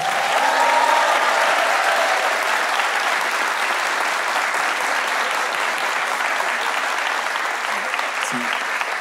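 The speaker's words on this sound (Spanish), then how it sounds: "Aplausos para Pamela." Audience applause at a live comedy show in a theater, dense and sustained clapping that fills the whole stretch evenly, loud and close, with only slight tapering toward the end.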